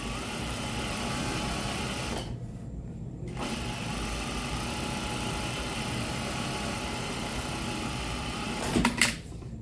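A sewing machine stitches a shirt placket, running as a steady mechanical hum. It stops briefly partway through, then starts again and runs on, with a small clatter near the end.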